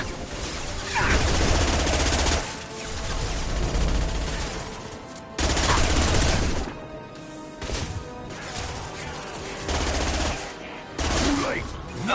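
Bursts of rapid automatic gunfire in a Mass Effect Legendary Edition firefight, loud crackling volleys in several long stretches separated by brief lulls, with shouting voices mixed among the shots.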